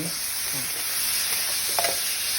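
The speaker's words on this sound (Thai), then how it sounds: "ผัดให้ เนื้อสุกจักอ่า หกสิบถึงเจ็ดสิบเปอร์เซ็นต์เติมน้ำค่ะ" Chicken stir-frying in a pan for Thai holy basil chicken, giving a short, even sizzling hiss with a few soft stirring scrapes, fairly close and moderately quiet.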